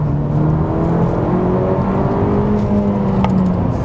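A 2017 Honda Civic Si accelerating hard from a rolling start toward 60 mph, the engine note climbing steadily as a loud, close whir under a constant road drone, with no talk.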